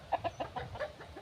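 A fighting rooster gives a run of about eight short, evenly spaced clucks, fairly faint and close, with no talking.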